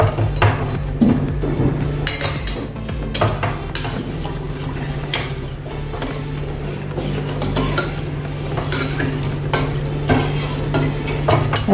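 Sugar is stirred into shakkarpara dough in a bowl for Diwali sweets, giving a continuous loud scraping and stirring with rhythmic knocks of the utensil against the vessel, with no talk.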